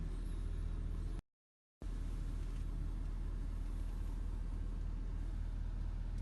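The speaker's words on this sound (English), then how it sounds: "Truck is turned back on." A 6.7L Powerstroke truck diesel engine idles with a steady low rumble throughout, briefly cut by a moment of silence before the drone resumes at the same level.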